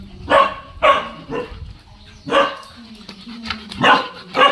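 A mixed-breed Filipino street dog (askal) barks repeatedly in short bursts, fairly close, with brief pauses between barks and faint background noise.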